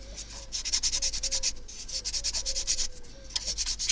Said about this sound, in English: And using my sanding stick again.